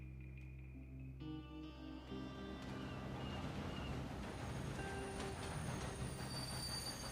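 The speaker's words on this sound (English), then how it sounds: "They sure don't make nice-looking trains like that anymore." A train in the video game Red Dead Redemption 2 rolls along rails with steady mechanical rumble and loud, sustained metallic wheel squeal, with no one talking.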